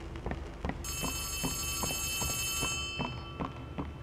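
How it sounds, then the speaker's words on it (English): A telephone rings inside an abandoned toy factory in the horror video game Poppy Playtime Chapter 3, a bright electronic ring lasting about two seconds over faint rhythmic thuds and background ambience. "Oh, I hear a phone."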